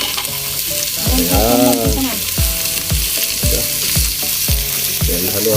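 Onions and other ingredients sizzle in a hot pan during lunch cooking, with repeated scraping strokes of a spatula stirring at a steady rhythm close by, loud and continuous throughout.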